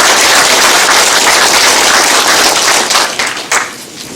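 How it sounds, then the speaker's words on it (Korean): At an evaluation meeting for the Jecheon International Music & Film Festival, a crowd gives the mayor a loud, dense round of clapping that thins and eases off near the end. "우리 이근규 시장님께 한번 박수를 보내드리면"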